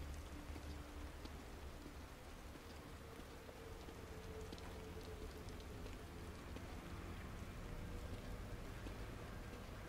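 Steady rain falls in the horror video game The Evil Within, a constant soft hiss of drops on surfaces with faint spatters, heard alone with no speech.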